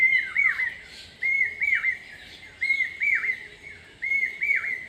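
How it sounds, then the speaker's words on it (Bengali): Birds chirp in repeated short bursts of bright, whistled calls, fairly close and clear against a quiet morning background. "সকালবেলা উঠলেই কিন্তু এখন পাখির শব্দ"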